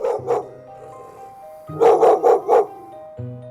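Two dogs, a German Shepherd type and a medium-sized cream crossbreed, bark in a garden: a pair of barks, then a quick run of four loud close barks, with whiny tonal yelps between them.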